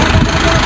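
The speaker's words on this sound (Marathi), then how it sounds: "निघाला आमचं ट्रॅक्टर" A farm tractor hauling sugarcane runs with a steady, close, low engine drone at idle, a continuous rumble with slight vibration and no break.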